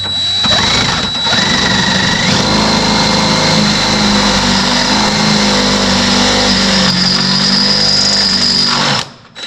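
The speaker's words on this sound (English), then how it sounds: "now I got to drill this 1/2-inch hole" A power drill bores a half-inch hole into the bumper of a 2005 American Eagle tow car for tow bar mounts, a loud, steady high-pitched whine running several seconds before cutting off abruptly at the end.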